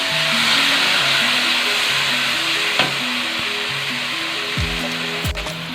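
Cumin and ginger-garlic paste sizzling in hot oil with browned onions for white chana pulao: loud, steady frying hiss, with a few spatula stirs and scrapes along the way.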